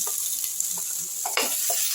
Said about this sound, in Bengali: এগুলোকেও আমি খুব ভালো করে একটু ভেজে নিচ্ছি